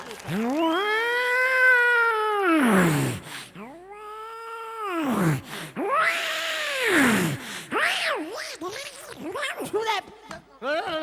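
A performer on a comedy stage show imitates cat yowling: a long drawn-out wail, then a second, followed by shorter rising and falling yowls, loud and close.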